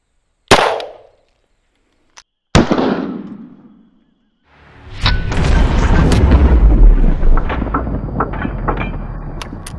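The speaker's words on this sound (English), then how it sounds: "Pushing the upper limits of the 3A, 45 versus the bullet-resistant backpack." A .45 pistol fired at a bullet-resistant level 3A backpack on a range: a sharp close shot and a second loud crack with a decaying tail, then a rumbling burst of impact noise and clatter, with no talk.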